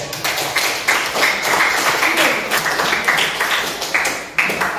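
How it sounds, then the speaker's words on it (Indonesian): A group in a classroom discussion session gives steady applause for presenters, dense overlapping hand claps throughout at close range. "ini kita tepuk tangan dulu untuk"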